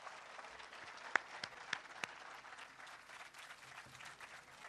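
Audience applause greets Pakistan's Prime Minister Shehbaz Sharif at a project inauguration event, a steady wash of clapping with a few sharper individual claps standing out near the start, moderately loud and continuous throughout.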